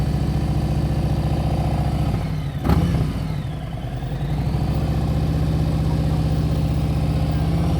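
A motorcycle engine idles steadily during slow-speed riding practice, a constant low rumble with one short thump partway through and no talk.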